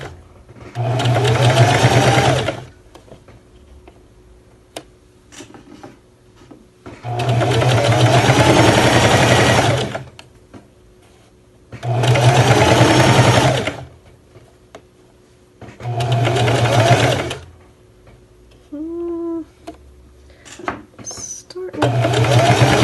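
A sewing machine stitches a lined zippered bag in four loud, close bursts of rapid whirring, each a few seconds long, separated by quiet pauses with light handling clicks.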